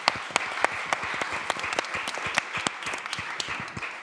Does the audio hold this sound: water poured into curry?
no